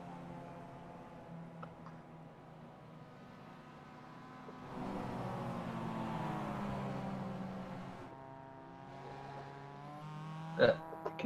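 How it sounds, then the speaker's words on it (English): A Porsche safety car engine hums over a long stretch and swells into a sustained rising rev near its midpoint. Then it eases off, with a sharp knock near the end. "You can hear the Porsche safety car absolutely revving its guts out"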